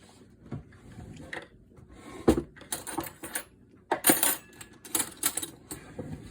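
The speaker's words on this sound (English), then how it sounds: "Okay, so I'm gonna mix this up." Stiff ingredients being mixed in a jar, heard as close clinking and scraping clatters of a utensil against the container, irregular and sharp with quiet pauses between bursts.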